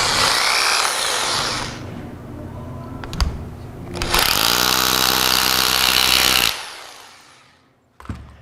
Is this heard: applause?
no